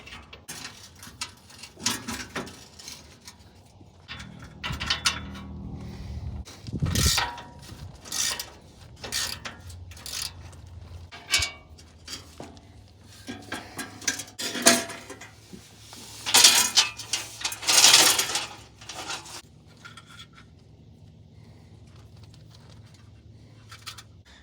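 Bolts and the differential cover come off a Ford F-150. Ratchet clicks and metallic clanks of tools and parts arrive in irregular close bursts between quieter gaps, with no talking.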